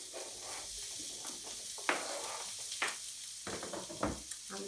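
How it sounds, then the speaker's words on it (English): Chunks of potato hitting a hot pan for a slow-cooked curried lamb shoulder, giving a quiet steady sizzle punctuated by a few sharp clatters and scrapes as they land and settle. "what I'm going to do now is add the potatoes into there"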